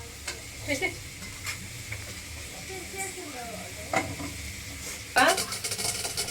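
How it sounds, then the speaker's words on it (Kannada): Puréed tomato hitting a hot pan in a home kitchen, giving a soft sizzle and hiss with stirring scrapes, brief louder crackles near the end, close and moderately quiet. "ರುಬ್ಬಿಟ್ಕೊಂಡಿರೋ ಟೊಮೆಟೊ ಹಾಕ್ತಾ ಇದ್ದೀನಿ."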